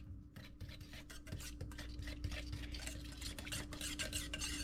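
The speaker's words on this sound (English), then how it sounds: "Going to give that a good whisk." A whisk stirring microwaved grape juice in a bowl, quick continuous scraping strokes clicking against the sides, close and fairly soft, with no talk.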